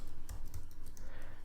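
Quick keystrokes on a computer keyboard as a file name is entered, a brief close run of soft clicks over steady background noise, no voices.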